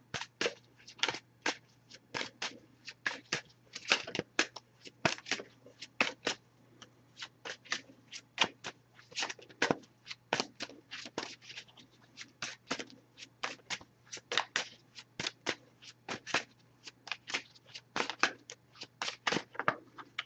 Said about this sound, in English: Just going to give this a few shuffles, and if I get a jumper, I'll take it.